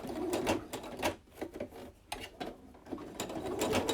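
A sewing machine whirs in short, uneven bursts while stitching pantaloons, its needle clattering up close and faint, with brief pauses between runs.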